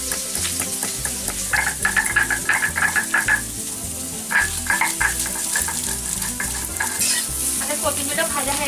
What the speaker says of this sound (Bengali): আমরা কড়াইয়ের মধ্যে সর্ষের তেল দিলাম, এবার আমরা আলুটা ভেজে নেব।